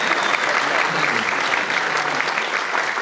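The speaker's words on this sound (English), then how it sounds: "Round of applause, please." A theatre audience at a Geddy Lee Q&A in Manchester's Dancehouse Theatre breaks into dense, loud, continuous applause that holds steady throughout.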